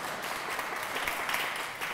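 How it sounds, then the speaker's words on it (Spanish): An audience at a talk on creativity and innovation in business claps in a steady, even round of applause, moderately close and fairly quiet, with no clear speech over it. "Un aplauso para"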